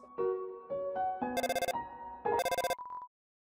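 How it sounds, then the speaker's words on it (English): Undertale's in-game phone call ringtone: a bright chiming melody of short notes that builds into two loud buzzing ring bursts, ending with a brief held tone, alone with no talk. "For 40 through 45, you will get a phone call from Sans."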